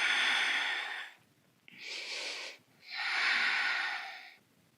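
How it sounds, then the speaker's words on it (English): Deep breaths during a core-strengthening exercise, three long airy breaths close to the mic separated by brief pauses, with no speech. "Breathing deeply."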